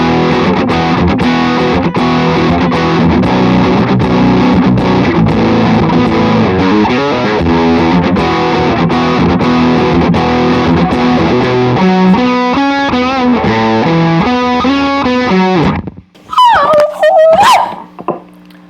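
Electric guitar driven through a distortion pedal, thick sustained chords and riffing ringing loud and steady, then breaking into a few squealing high bends and feedback-like wails near the end.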